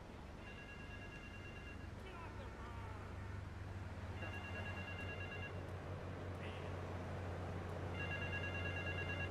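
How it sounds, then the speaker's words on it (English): A telephone rings in the video game GTA 3, a quiet electronic double-tone ring repeating in regular bursts a few seconds apart over low game ambience and a steady hum. "I heard a phone ringing."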